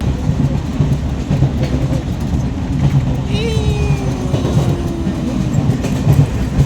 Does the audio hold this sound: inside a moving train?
yes